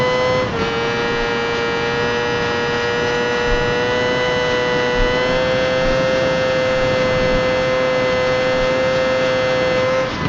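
A 2004 Kawasaki ZX-6R sport motorcycle engine revs high and screams at a steady, sustained pitch, loud and constant with a sharp whine throughout.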